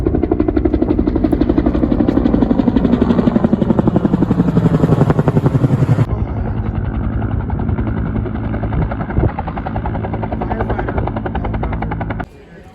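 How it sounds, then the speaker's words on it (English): A loud, steady, close engine roar from an aircraft, droning continuously with a fluttering, beating quality, shifting slightly in tone partway through before cutting off near the end. "That's our plane."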